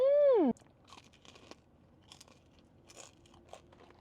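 Bites into Bburinkle fried chicken give a few sharp, close crunches and crackles in quick bursts, following a brief loud tone at the very start, with no talk.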